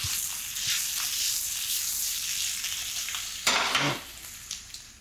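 Parmesan being stirred into mushroom risotto in a pan, a steady close sizzle and wet churning with a brief clatter of the spoon or pan near the end.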